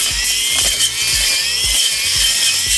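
A Procraft cordless grass trimmer with its guard removed cuts into shrubs, a loud whirring motor broken by repeated rhythmic chopping and rattling hits as the line strikes branches.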